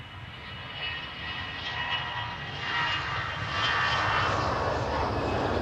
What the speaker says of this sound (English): the EasyJet starting off first